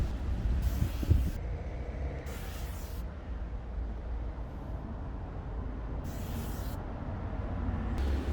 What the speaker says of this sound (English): The way to apply it is you need to hold down on the trigger and evenly spray across.